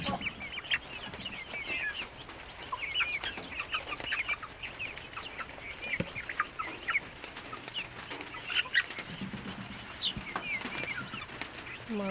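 Native chickens clucking steadily in a poultry yard, several birds overlapping in busy, irregular calls throughout, with occasional rooster-like squawks at close to moderate distance.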